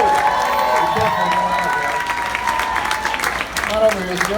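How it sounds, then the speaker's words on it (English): A Las Vegas fan-contest audience claps and cheers, with a dense wash of applause throughout and a voice talking over it. "Big round of applause for Sue"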